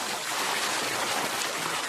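Mountain water pouring steadily into a pool, a continuous broadband rush like a stream, close and even with no breaks.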